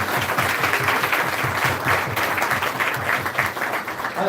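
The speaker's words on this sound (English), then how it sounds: "let's give her a round of applause for teaching 5th graders." An audience at a town-hall coffee gathering on disability issues applauds a fifth-grade teacher. The clapping is sustained and evenly paced, filling the room at a fairly constant volume.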